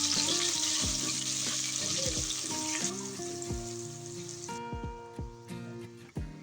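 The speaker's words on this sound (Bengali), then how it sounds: "পেঁয়াজ বাটাটা দিয়েও আমি ভালো করে তেলের সাথে ভেজে নেব যেন পেঁয়াজের কাঁচা গন্ধটা চলে যায়।" Onion paste frying in hot oil for egg biryani, a steady close sizzle with scattered stirring knocks and scrapes against the pan, no talk.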